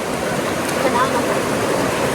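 A river flows in a rural province, a constant broadband rush of water that stays even and close throughout, with no clear speech over it.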